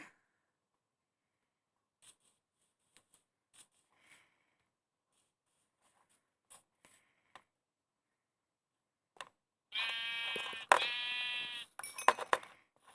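Sheep bleating in Minecraft: a short run of clear, repeated bleats near the end, after mostly quiet stretches with faint clicks and ticks.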